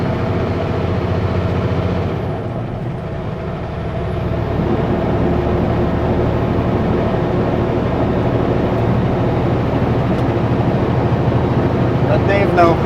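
A Super B truck's engine drones low and steady with the clutch slipping, heard from inside the cab on Enderby backroads, the loud rumble dipping briefly early on and then holding even throughout.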